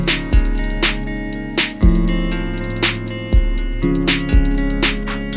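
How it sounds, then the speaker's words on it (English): Electronic drums play a steady rhythm pattern, with punchy, booming kicks and bright hits layered over sustained guitar and tonal parts in a full, loud mix without voices. "I put some drums, some electronic drums actually"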